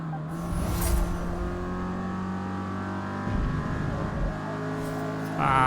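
A race car engine in the Forza Motorsport video game, played with a simulation wheel, hums and revs steadily at high pitch, with a couple of surges and a sharper rise at the end, no voices.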